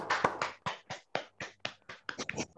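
Scattered hand claps at a Toastmasters club meeting, about a dozen separate sharp claps in an uneven rhythm, sounding like a few people clapping close to their microphones, with no talking.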